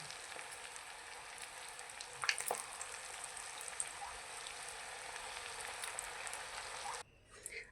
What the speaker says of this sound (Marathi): अशाच प्रकारे बाकीचे पण मी तळून घेते